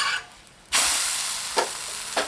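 Tapioca adai dosa frying in oil after being flipped, a steady bright sizzle that surges loudly at once and then fades, with two brief bursts of hiss flaring up again later, with no voices.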